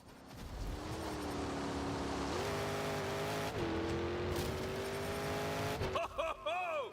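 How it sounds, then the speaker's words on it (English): A monster truck engine roars steadily in a Monster Jam video game, a loud sustained drone that shifts pitch a few times before breaking into revving bursts and tire noise at the end. "You wouldn't want to get in the way of that truck."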